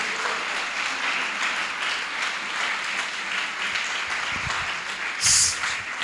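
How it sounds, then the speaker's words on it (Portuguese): A church congregation claps in praise to God, a steady broad wash of applause filling most of the stretch, with a brief brighter burst near the end. "Dá uma salva de palmas ao nosso Deus."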